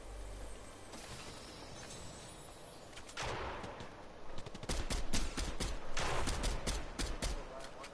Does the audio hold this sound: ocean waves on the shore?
no